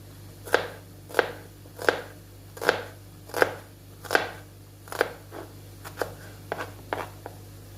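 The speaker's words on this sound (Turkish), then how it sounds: "Bir yandan da soğanlarımı doğramaya başladım." Onions being chopped with a knife on a board, a steady run of about a dozen crisp, close knocks, the first several even and loud, the last ones quicker and lighter, over a low constant kitchen hum.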